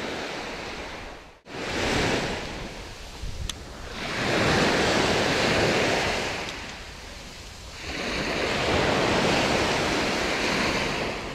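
Sea waves breaking on a shore in long surging washes, loud and close, each swell rising and fading over several seconds with a brief drop between.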